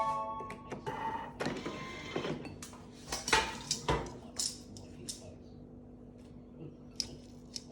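Leftover-sauce pasta dished up from a Thermomix: clinking and scraping of utensils against bowl and pot in irregular bursts, louder in the middle then trailing off, over a faint steady hum.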